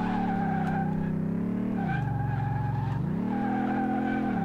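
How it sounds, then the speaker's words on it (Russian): An Audi RS6 in the Car Mechanic Simulator video game holds a loud, continuous tonal tire skid, with the pitch dipping and rising again as the car slides. "ну вот что-то она даже небольшой занос какой-то показывает"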